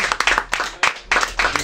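A small group at a live rock music session claps in short bursts that rise and fall, close by and fairly sparse, with no voices over it.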